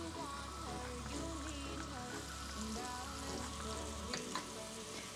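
Shrimp frying in a pan make a continuous close sizzle with bubbling crackle and light stirring noises, under a low background hum.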